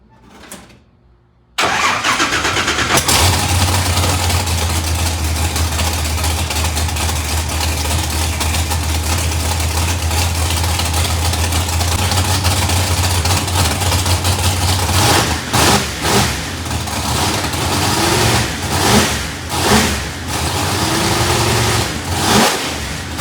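A ProCharged Pontiac GTO fitted with an F3 supercharger cranks and fires, then settles into a loud, lumpy idle close by, with several sharp throttle blips and revs later on.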